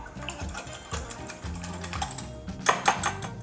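A fork rattles and clicks quickly against the sides of a measuring cup while two eggs are beaten for chicken fried rice, close, irregular tapping strokes with short pauses between bursts.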